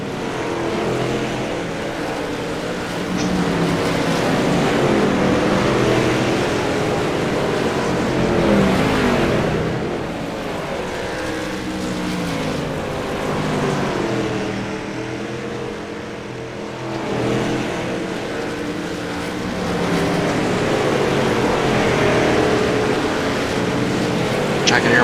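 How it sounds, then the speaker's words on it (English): Race cars on a dirt track in iRacing drone with a continuous engine roar that swells and dips slightly, running beneath someone talking. "Cars are a little loud."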